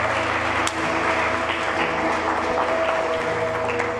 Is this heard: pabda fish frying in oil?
no